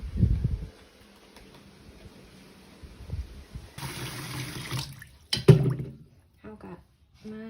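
Tap water runs and splashes as strawberries and mangoes are washed in a sink, a steady low rush with clattering handling near the end and a voice speaking briefly over it.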